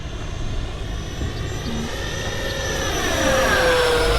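An FMS F-18 RC model jet whines past low and close, its pitch sweeping as it passes and growing louder toward the end.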